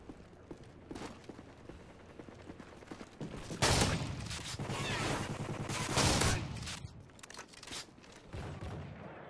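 Bursts of automatic gunfire and heavy firefights from the video game Call of Duty Modern Warfare 3, loud and dense with two louder volleys in the middle, no talking.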